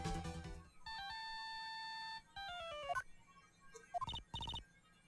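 A cell phone ringtone in the Phoenix Wright: Justice For All video game chirps in a short run of electronic tones, steady beeps followed by falling and rising blips, alone and fairly quiet.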